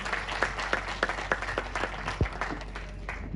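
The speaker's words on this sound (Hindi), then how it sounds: "जोरदार तालियां बजती रहें आप सबकी।" Audience at a public ceremony in Uttarakhand clapping steadily, a dense, continuous patter of applause from a crowd heard at moderate distance.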